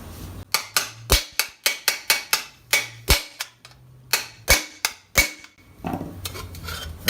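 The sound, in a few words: hammering a rivet with a chisel-like rivet set on armor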